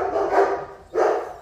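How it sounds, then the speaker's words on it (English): Dogs inside a large 1960 midcentury modern house give two loud, close barks about half a second apart, with no talking. "you're gonna have to shut the dogs up"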